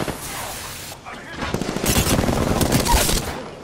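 Rapid bursts of gunfire in Apex Legends build to a dense fast rattle of shots in the second half, with game sounds and a voice-over under them.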